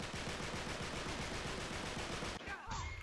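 Rapid automatic gunfire in an Uncharted 3 multiplayer gunfight, dense continuous bursts of shots lasting about two and a half seconds before a brief break and a few more.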